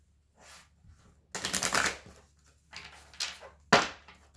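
Tarot cards riffle and slap together in a few quick bursts separated by short quiet pauses, close by and fairly soft.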